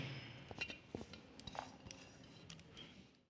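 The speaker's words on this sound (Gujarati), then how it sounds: "એક સ્ટીલનું બાઉલ લીધું છે, એમાં આપણે આ બધી જ હળદરના ટુકડા એમાં એડ કરી દઈશું" Pieces of fresh turmeric root drop and clink into a steel bowl, a quiet scatter of small metallic taps and knocks at irregular intervals, with no talk.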